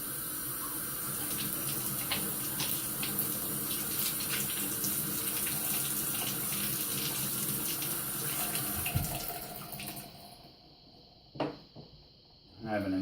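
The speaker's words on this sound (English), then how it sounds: "Run a little water over it." Water runs steadily from a tap over the impeller of a Penn-Plax Cascade 1200 canister filter, splashing continuously, then cuts off near the end leaving a few brief clunks.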